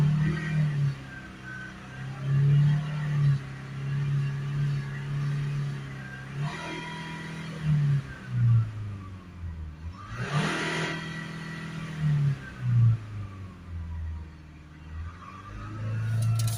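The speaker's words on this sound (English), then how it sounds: "Now if you accelerate the car up," A car engine held at a steady raised idle, around 3000 RPM, during a DPF cleaning, with a low droning hum and small dips and swells in pitch. A brief louder burst comes near the middle, and the engine runs alone without talk.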